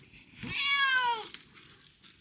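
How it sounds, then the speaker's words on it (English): A cat indoors gives a single drawn-out meow, close and clear, rising and then falling, followed by quiet. "Sammy, you're an inside cat now."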